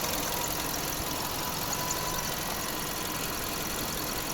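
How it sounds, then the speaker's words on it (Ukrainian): A 2010 Skoda Octavia A5 1.6 MPI petrol engine idles steadily with an even, continuous hum and faint knocking, with no voices over it. "слухайте робота двигуна"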